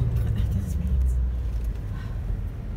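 A Land Rover Discovery drives along an Alpine road, its engine and road noise a steady low rumble from inside the cabin, with faint voices murmuring over it.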